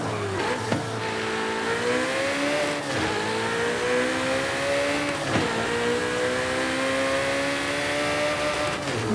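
A high-powered racing car revs hard and continuously throughout, its engine pitch climbing and dropping with gear shifts while drifting, loud and close with no talking.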